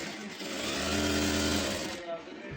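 A domestic sewing machine stitches smoothly after its bobbin thread tension is fixed, giving a brief, close, continuous buzzing whir that cuts off near the end.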